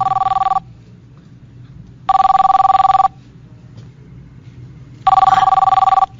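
A telephone rings in three loud, evenly spaced bursts of electronic trilling, each about a second long, separated by quiet room tone.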